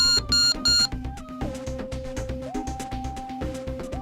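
Quiz show contestant buzzer: a few loud, sustained electronic tones sound at the start, followed by a steady run of shorter beeps and tones that step between pitches.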